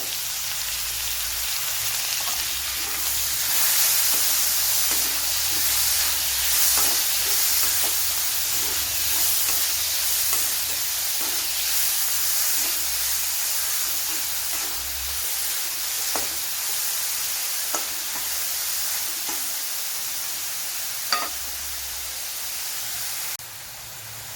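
Chopped tomato sizzling as it hits frying shallots in a pan, a dense continuous hiss that holds steady for over twenty seconds, close and fairly loud, with faint clicks of a spoon against the pan.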